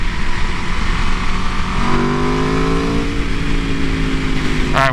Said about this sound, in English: this thing has a grunty sound that sounds amazing